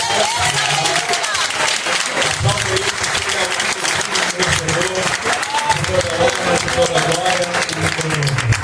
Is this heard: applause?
yes